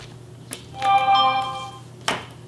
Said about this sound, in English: My phone is chirping to remind me of something